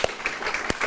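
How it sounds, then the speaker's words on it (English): Brief applause rises from the audience at an evening speakers event, scattered hand claps with a couple of sharper individual claps standing out over a soft clapping wash. "Big hand of applause for this."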